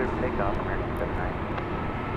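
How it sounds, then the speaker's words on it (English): American Airlines jet taking off at night at DFW Airport, a broad steady engine roar heard from a distance, with speech barely audible beneath it. "Takeoff, American 79."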